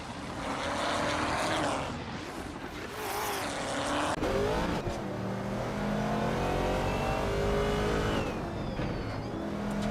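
A 1968 Pontiac Firebird in a vintage Trans Am class video game race drones steadily with revving engine tones and shifting pitch, other cars mixed in, fairly quiet and continuous.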